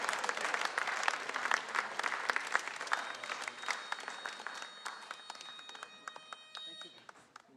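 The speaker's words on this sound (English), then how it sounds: "I'm glad you're clapping your hands." Audience applause at a memorial service, a dense spread of many hands clapping that holds steady and then thins slightly toward the end, with voices murmuring underneath.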